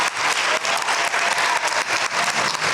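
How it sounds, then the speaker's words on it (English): Museum audience applauding panelists at a democracy panel event, a dense, steady round of clapping from a room full of people, loud and sustained. "Give our panelists a round of applause."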